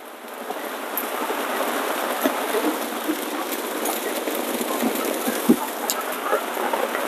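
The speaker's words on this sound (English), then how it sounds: "It rained so hard, the fire went out." Heavy rain pours outdoors in a dense, steady hiss with scattered sharper drop impacts, continuous and fairly close with no talking.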